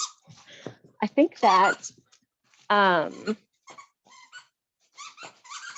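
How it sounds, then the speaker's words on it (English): A dog plays with a loud squeaky toy indoors, making two long, wavering squeals and scattered shorter squeaks with quiet gaps between them, alongside a brief spoken word. "I'm distracted by my dog playing with a really loud toy"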